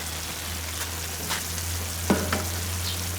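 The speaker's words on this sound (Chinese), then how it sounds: "直接泡好的粉条下锅啊。" Soaked glass noodles go into a pot of pork stewed with sour pickled cabbage and chili, giving a soft, steady sizzle with a few faint crackles near the middle.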